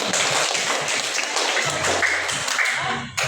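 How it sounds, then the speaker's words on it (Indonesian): Students in a university language-teaching class clap their hands together, a dense, steady wash of many close hand claps filling the room for a few seconds before it tapers off. "Tepuk tangan sama saya."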